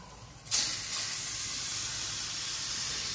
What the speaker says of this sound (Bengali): লাল শাক ভাজা হবে